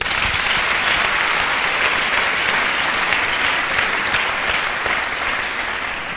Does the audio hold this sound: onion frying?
no